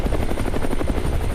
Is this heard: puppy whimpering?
no